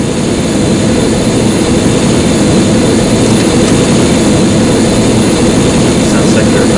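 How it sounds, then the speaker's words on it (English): Jet engines of aircraft in the video game Soldier of Fortune 2, a loud, constant roar with a heavy low rumble and steady high hiss throughout. "Sounds like they're about to take off."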